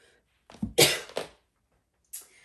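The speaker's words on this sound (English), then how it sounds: "I was trying to hold back a cough" A short burst of harsh, close coughing, two or three forceful expulsions, followed by silence and a brief breathy sound.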